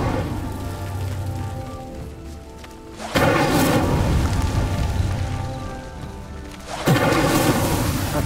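Two loud whooshing bursts of the Incendio fire spell in Hogwarts Legacy, each starting abruptly and roaring on as a crackling, rain-like rush of flame, with quieter ambience between them.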